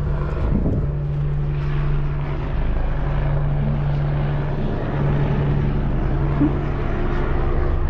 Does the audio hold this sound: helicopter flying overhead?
yes